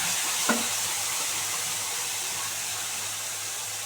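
Ground spice paste added to hot tempering oil for fish kalia, a soft, steady sizzle with one brief clunk near the start, no voices.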